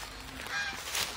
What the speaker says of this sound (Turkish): Değişik kazlar.